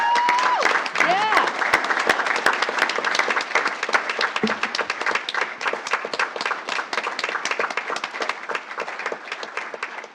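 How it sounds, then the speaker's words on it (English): An audience at a school board meeting breaks into sustained applause, many hands clapping for about ten seconds after a brief voice at the start. "Let's give him a round of applause."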